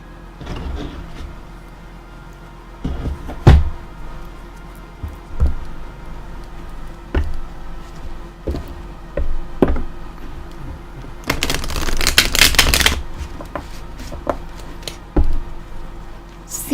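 A tarot card deck is picked up and shuffled, with scattered light clicks and taps followed by a brief dense riffling burst of cards, close and moderately loud, without talk.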